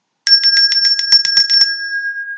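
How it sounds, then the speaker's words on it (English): A ritual bell is struck about eleven times in a steady, quick rhythm, each strike ringing bright and clear. The final strike is left to hum and slowly fade on its own. "ring the bell as many times as you'd like, until you're satisfied"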